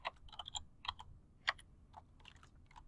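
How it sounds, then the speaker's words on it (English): Quiet, close clicking of computer keyboard keys as an email address is typed, in an irregular patter of taps over a few seconds. "I'm going to click on that and I'm going to type in my email address."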